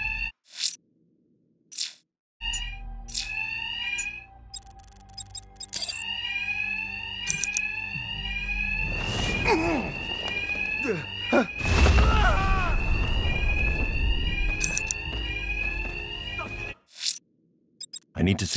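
An alarm rings steadily through a Batman: Arkham Knight stealth section, its repeating electronic tones sounding throughout alongside scattered game effects and bursts of combat noise, with short silent gaps at the start and end.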